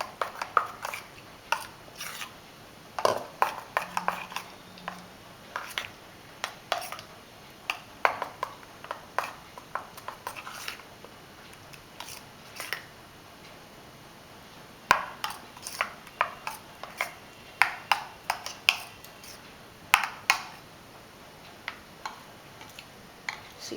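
A spoon knocks and scrapes against a bowl while rava and curd batter with bitter gourd paste is mixed, giving sharp irregular clicks and taps in bursts with short pauses, fairly close and alone.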